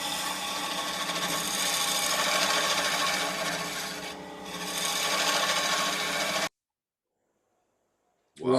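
A woodturning lathe runs at about 920 RPM, a steady loud raspy whir with a slight dip midway, then it cuts off abruptly into silence.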